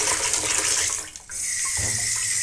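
Tap water runs into a cooking pot for rice with a loud, bright, continuous splash that briefly dips as the flow is interrupted, then resumes with a deeper filling tone.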